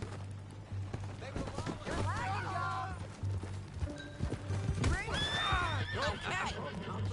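A horse in Red Dead Redemption 2 whinnies twice with high, quavering neighs over low rumbling background noise and hoofbeats, with voices faintly beneath.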